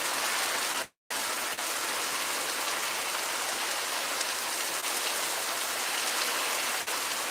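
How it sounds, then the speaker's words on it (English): Heavy rain pours down outdoors in a steady, dense hiss with no talking, broken only by one brief dropout near the start. "It's fucking pouring down raining out here."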